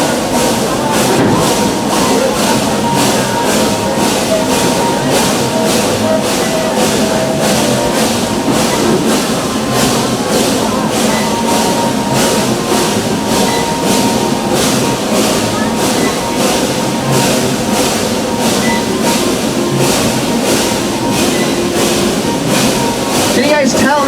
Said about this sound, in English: I haven't heard that locomotive slip once. It's chugging really slow, but that's because she's gripping the rail.